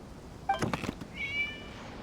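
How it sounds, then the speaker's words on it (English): A short, faint cat meow in the video game Genshin Impact rises and fades over a low background hum, preceded by a few soft knocks. "It was just a cat."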